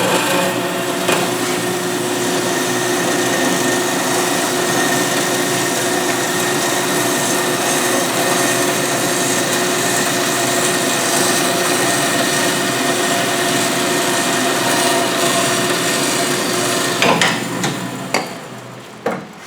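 A metal-cutting saw runs steadily through a steel workpiece in a machine shop, a continuous loud grinding whine holding for most of the stretch before winding down near the end, with no talking.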